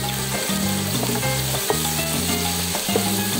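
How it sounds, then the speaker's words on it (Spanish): Onion sautés in oil left over from frying cabrilla and bonito fish, giving a loud, continuous close-up sizzle with occasional crackles and a low tonal hum underneath. "ese aceite que queda ahí se le va echando a la cebolla para sofreírla"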